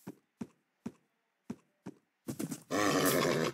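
In the Minecraft video game, a horse gives a loud, bright neigh at the end, preceded by a row of evenly spaced hoof clops and a short snorting burst, all crisp and close.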